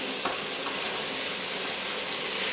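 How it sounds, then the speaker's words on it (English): Dense, steady hissing sizzle of vegetables frying in oil in a hot pan, close and continuous, with a couple of faint clicks early on. "And you can hear that sizzling."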